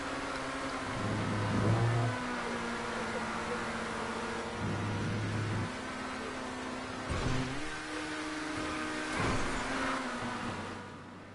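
Car engines in a GTA V Online stunt race rising and falling in repeated stepped revs, a droning whine that climbs, drops and climbs again at moderate loudness.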